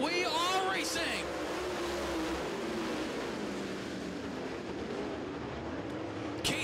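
World of Outlaws race cars roar around the Duck River dirt track in a steady, continuous engine drone, with a voice briefly over the opening.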